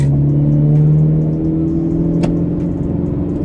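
A naturally aspirated Toyota GT86 four-cylinder engine with an HKS Max exhaust revs under load from inside the car, a loud, steady droning hum holding a constant pitch, briefly dipping as the throttle eases.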